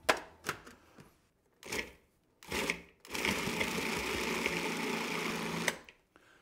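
A food processor grinds pork, beef and nitrate salt, starting with a few short pulses and then running into a steady, continuous whirring grind that stops abruptly near the end.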